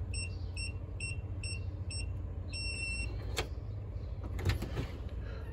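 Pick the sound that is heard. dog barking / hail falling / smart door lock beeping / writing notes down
smart door lock beeping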